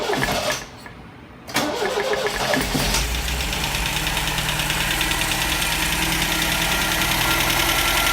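A restored 1974 MGB GT engine cranks, falls briefly quiet, then catches and settles into a steady, rumbling idle with a slightly uneven knock, close and loud, no voices.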